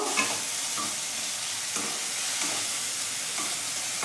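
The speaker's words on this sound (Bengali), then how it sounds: "আদা রসুনের কাঁচা গন্ধটা যাওয়া পর্যন্ত মশলাটা ভালো করে কষবো" Spice paste of chopped green chilli, ginger and garlic being stir-fried for kadai paneer, a steady close sizzle with soft, regular scraping strokes of stirring running throughout, no voices.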